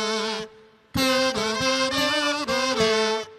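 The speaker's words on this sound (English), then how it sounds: "can you play it on the kazoo?" Several buzzy, nasal kazoo tones play a short phrase in unison, starting with one held note, then a run of rhythmic notes.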